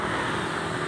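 Steady, loud broadband road noise from vehicles travelling on the Palimanan toll road in Indonesia, a continuous traffic roar with no distinct pass-bys or breaks.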